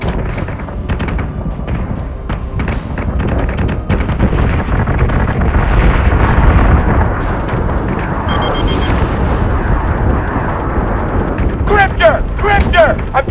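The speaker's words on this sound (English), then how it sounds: "We're taking fire." Weapons fire pounds a ship in the space combat game Battlestar Galactica Deadlock, a loud, continuous barrage of booms and bursts with radio chatter over it and sharp crackles near the end.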